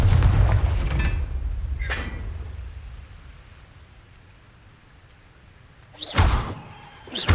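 Sharp explosive bursts of Confringo spells in Hogwarts Legacy catacombs: a loud blast at the start, another soon after, then quieter decay before two more booming impacts near the end.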